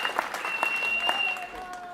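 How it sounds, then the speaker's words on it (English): Graduates at an MSUM undergraduate fall commencement turn and applaud their families: a dense, continuous wash of clapping from a large crowd filling an indoor hall, with a faint tone running underneath. "graduates, I would like to invite you to turn and applaud"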